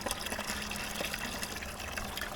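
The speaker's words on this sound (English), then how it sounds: "watch when I pour" Dark fermented comfrey Bokashi compost tea being poured into a container: a continuous close splashing, gurgling stream of liquid with small irregular spatters, fairly quiet throughout.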